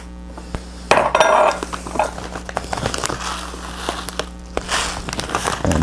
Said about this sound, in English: So take your bowl and measure out some rice.